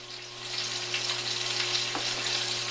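Salmon fillet laid into a hot pan sizzles steadily, a bright crackling hiss close up with a low hum underneath and no voices.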